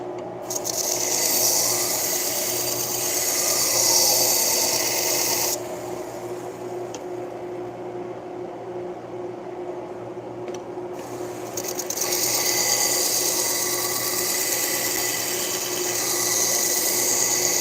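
A hard-steel Benchmade knife being sharpened with long, continuous rasping strokes, loud and close, easing to a quieter grind in the middle before the rasping returns.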